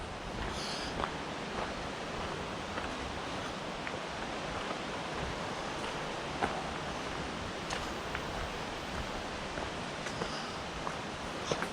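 A river far below flows as a steady, even broadband rush that never lets up, faint and distant, with only a few small ticks and rustles nearby.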